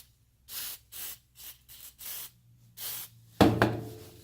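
Lubricant is sprayed into an old ratchet in a run of short, close hissing bursts. The ratchet then rattles and clicks at the end as it is worked.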